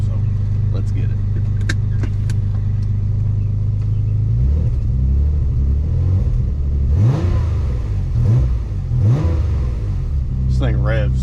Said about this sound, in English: This thing revs so fast.